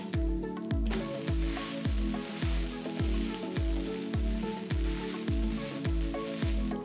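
A paneer dosa sizzles steadily on a hot pan, browning on one side. The close, dense frying crackle comes with a regular rhythmic tapping pulse underneath.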